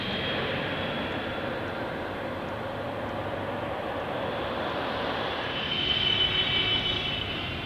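Aircraft passing at Paine Field, the Boeing plant airport, a steady broadband engine roar that stays loud throughout and swells slightly near the end, heard outdoors with no voices.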